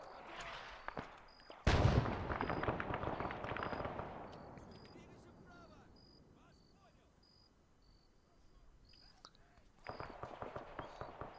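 AI squads trading gunfire in the Arma 3 video game, a sharp loud burst followed by a long decaying roll of battle noise, sustained crackling fire with high tones, and renewed bursts near the end.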